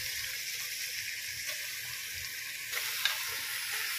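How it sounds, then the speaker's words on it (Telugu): Country chicken with turmeric in a frying pan, a steady, fairly faint hiss of sizzling with a couple of soft stirring knocks near the end, no voices. "చికెన్ వేసుకోవాలి."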